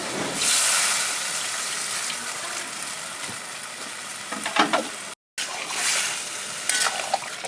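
A splash of water hits a hot cooking pot and erupts in a loud, steady hiss of steam and sizzling, easing slightly, cut by a brief gap before the hissing carries on.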